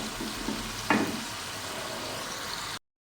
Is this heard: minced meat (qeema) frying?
yes